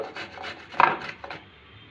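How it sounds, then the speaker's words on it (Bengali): Amla (Indian gooseberry) rubbed against a hand grater for pickle, a few short rasping scrapes in a row followed by one louder stroke, close and alone with no talking. "এভাবে আমি বাকিগুলো সব গ্রেট করে নেব।"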